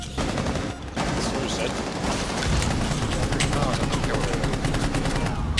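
Rapid bursts of automatic gunfire in the tactical shooter game Rainbow Six Siege, loud and sustained with dense repeated shots, under excited player talk.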